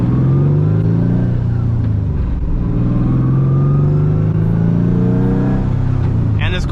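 A boosted 500-horsepower Nissan S15 drift car roars continuously up close, its engine note rising and falling through steady harmonics across several rev swings, with a brief sharp chirp near the end.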